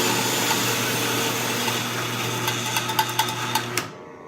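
A coffee grinder set to very coarse grinds beans for a French press with a steady whirring motor drone and a rattle of beans, then stops abruptly, with no talking.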